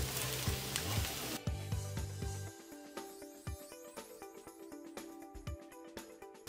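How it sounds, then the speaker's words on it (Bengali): Rice being fried on full heat in a pan for prawn pulao, a steady sizzle with irregular scraping and stirring clicks throughout, close and moderately loud with no voices. "চুলার আঁচ ফুল করে দিয়ে চালটা আমি 3-4 মিনিট সময় নিয়ে ভেজে নিব"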